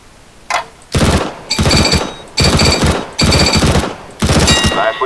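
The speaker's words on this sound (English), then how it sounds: "Aim at the target and shoot in short controlled bursts." Counter-Strike: Global Offensive training gunfire rings out in about six loud, close, short controlled bursts separated by brief pauses.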